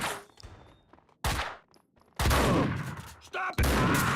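Several sharp bursts of gunfire in the video game Max Payne 2 break a near silence, loud and abrupt, with sustained shooting clusters toward the end.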